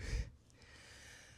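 A vape pulled on close up, giving one breathy rush of air that quickly fades into a faint quiet tail. No talking is heard.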